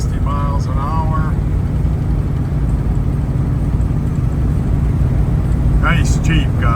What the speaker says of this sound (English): We're out driving our Jeep Grand Wagoneer, going down the road about 60 miles an hour.